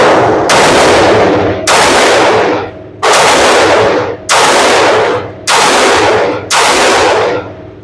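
Six loud, sharp pistol shots from 5.7x28 handguns, a Palmetto State Armory Rock, Ruger and Smith & Wesson, crack out at an even pace about a second apart outdoors, each trailing a short decaying echo.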